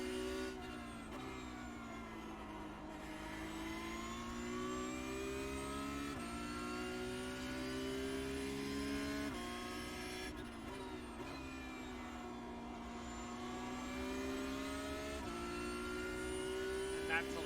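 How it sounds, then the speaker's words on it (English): A Porsche Cup race car laps Brands Hatch in iRacing, its engine droning steadily with rising and falling pitch through gear changes, continuous and fairly quiet throughout. "That's a lap of Brands Hatch in the Porsche Cup car"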